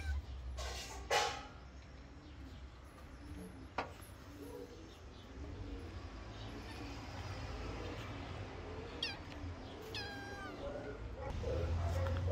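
Cats recovering from blindness and ready for adoption meow a few times, with one longer, rising and falling cry near the end, while a person talks in the background.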